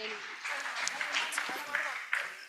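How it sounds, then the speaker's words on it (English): An audience at a live conference session applauds, a soft, moderately distant patter of clapping with scattered sharper claps running throughout, blended with faint background voices. "A round of applause"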